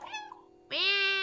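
A cat meows twice in the Stray video game, a short soft call followed by a louder, drawn-out one, close and clear with nothing else around it.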